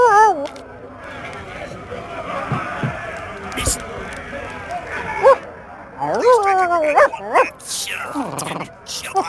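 Dog barks and yelps in the pirate game Sea of Thieves, several sharp pitched bursts near the end over game ambience, with voices talking earlier.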